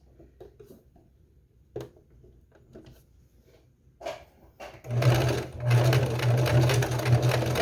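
A sewing machine stitching cord onto fabric, starting with a few soft clicks and handling noises before running loudly and steadily for the last few seconds, close by.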